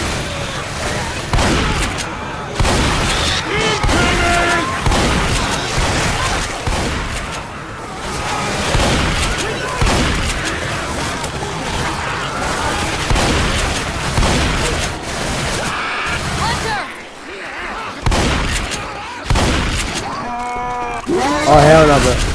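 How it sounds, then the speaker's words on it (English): A chaotic video-game firefight, with bursts of gunfire and heavy booms from a grenade explosion, stays loud and close throughout, while players talk over the action. "Grenade."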